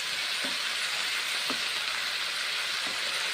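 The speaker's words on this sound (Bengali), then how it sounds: "এই যে ভেজে নিচ্ছি কুমড়োগুলো" Pumpkin pieces frying in a pan give a steady, soft sizzle throughout, close by, with a few faint stirring clicks and no voices.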